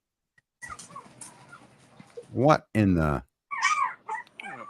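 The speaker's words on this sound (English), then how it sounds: "I hear them puppies." Puppies whimper and yip, joined by louder barks from a dog nearby, while someone talks over the noise. The high whines are followed by two strong barks and then further yelps.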